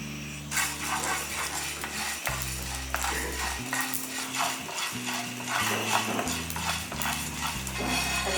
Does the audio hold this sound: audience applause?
no